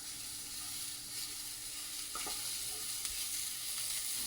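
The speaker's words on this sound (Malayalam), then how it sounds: "ഇനി ഞാൻ കുറച്ച് തേങ്ങ ഇട്ടുണ്ട്" Grated coconut roasts in a pan with a soft, even sizzle and faint stirring scrapes, quiet and continuous throughout.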